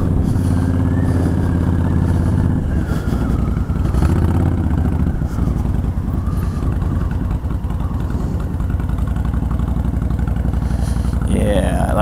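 A motorcycle engine idles loudly and steadily up close on a cold day with the choke pulled out, and a voice speaks briefly over it.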